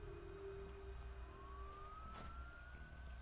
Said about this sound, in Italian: Allora, il camion dei pompieri.